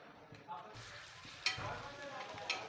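Crushed garlic sizzles in a little hot oil on a heated griddle pan, a soft, steady frying hiss with a few sharp clinks of utensils.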